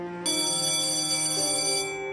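A school bell in an animated school scene rings out loudly and steadily for about two seconds, a bright sustained metallic ringing with no talk over it.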